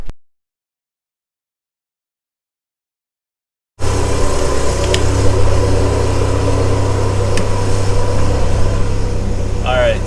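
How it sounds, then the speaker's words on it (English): Car engine idling after an oil cooler install, a steady close mid-low hum that starts abruptly after a few seconds of silence and holds even to the end. "car is idling fine, 14 volts."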